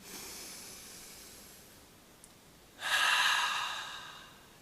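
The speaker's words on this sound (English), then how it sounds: "Take a deep breath in through the nose." A slow exhale trails off, then one deep breath drawn in through the nose, a close, airy hiss that swells and fades over about two seconds in a quiet room.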